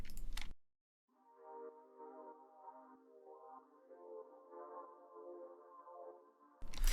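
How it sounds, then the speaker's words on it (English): A soft, gentle synth pad sustains on its own in a late-night R&B beat, its warm layered chord tones swelling slowly and holding at a modest, even level for several seconds. "I added the pad, a very gentle pad, sounds like this."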